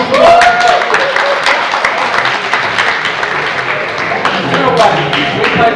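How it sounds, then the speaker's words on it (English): Applause from an audience at a high school Project Graduation hypnosis show, a steady wash of clapping throughout, with a voice speaking over it. "All this applause is for you"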